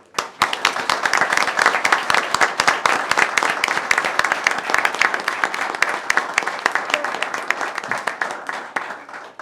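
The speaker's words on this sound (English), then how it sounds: "Quick round of applause for the new." A room full of people at a town select board meeting claps in a sustained burst of applause. The clapping is close and dense, tapers gradually toward the end, and no one speaks.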